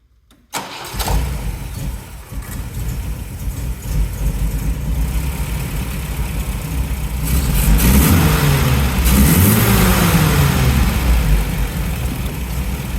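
An MGB GT's engine cranks and fires up close by after a moment of silence, then settles into a steady running idle with a few rises in revs and growing intensity.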